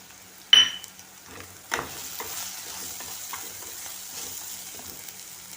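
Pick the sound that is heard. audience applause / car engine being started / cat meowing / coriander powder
coriander powder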